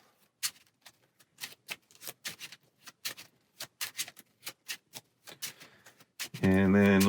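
A deck of encounter cards for a solo Marvel Champions tabletop game is shuffled by hand, a brisk run of soft crisp riffles and taps at an uneven rhythm, quiet and close, ending as a voice starts speaking.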